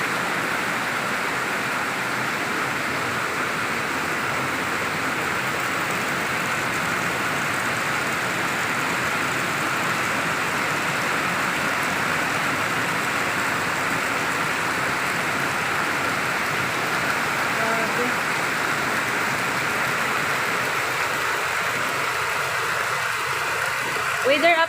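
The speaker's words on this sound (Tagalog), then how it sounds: "Sobrang lakas ng ulan guys." Heavy rain pours steadily and loudly for the whole stretch, a dense unbroken wash, with a faint engine-like hum underneath and a brief clatter near the end.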